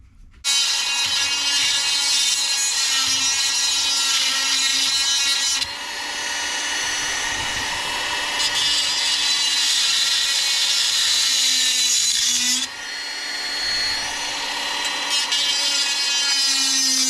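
A power saw cutting through wood at an angle, loud and close, with a steady high whining grind broken by two brief changes in pitch as the blade meets and clears the cut.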